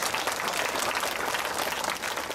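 An audience at an outdoor political rally in Ipoh, Malaysia, applauds in a dense, continuous roar of clapping that stays loud and even for a couple of seconds, with no voice over it.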